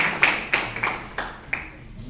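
A church congregation at a Sunday Bible school claps hands in praise, five or six distinct, roomy claps spaced about a third of a second apart, moderately loud, with some voices faintly in the background.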